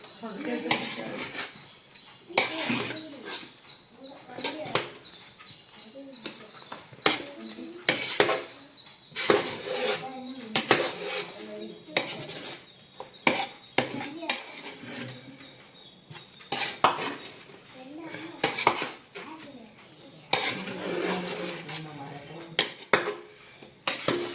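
Spoon scraping and clanking against a pot as dum biryani rice is mixed for an Onam meal, a steady run of close metallic clinks and stirring scrapes.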